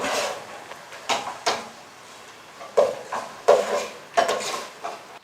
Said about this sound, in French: Je vais rajouter dans la marmite l'ail persil. OK. Je vais mélanger.